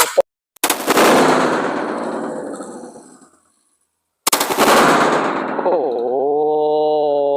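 Two loud, close blasts from a Saiga shotgun fired at a 200-liter fuel tank, each with a long rolling decay, separated by about three seconds of quiet, followed by a steady tonal ringing.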